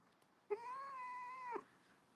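A cat gives one long, loud, drawn-out meow lasting about a second, close and clear against a quiet room.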